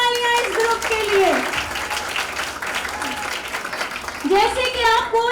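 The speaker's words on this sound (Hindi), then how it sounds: "जोरदार तालियां इस ग्रुप के लिए।" Children and adults at a kids' Bible convention clap loudly for a group, a dense round of applause overlapped by voices and shouts, with a louder swell near the end.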